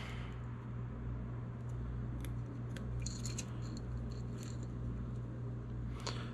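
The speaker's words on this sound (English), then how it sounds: "So hold on to this zip tie, cut this one." A zip tie is snipped with cutters during a Yamaha TTR125 top-end removal for a BBR 150 big-bore install, giving a few brief sharp clicks over a steady workshop hum.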